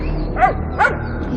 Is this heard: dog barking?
yes